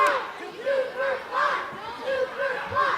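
A wrestling crowd cheers for Superfly in rhythmic surges of voices, rising and falling several times, close and loud.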